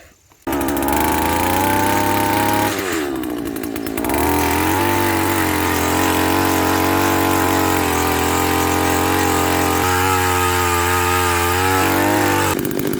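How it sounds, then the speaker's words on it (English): Gas-powered two-stroke auger engine running on mixed fuel while digging post holes, a loud steady drone with harmonic buzz that wavers and dips briefly around the third second, close by and alone. "Got the auger right here. I'm gonna mix up that fuel and get after it."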